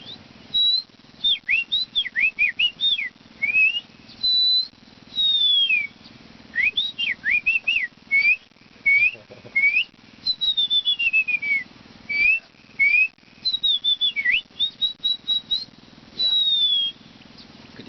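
A man whistles an imitation of the kacir bird's call, known in Aceh as ticimpala, in repeated bright phrases of rising and falling chirps and sliding notes with short pauses between them, close and clear, with no talking.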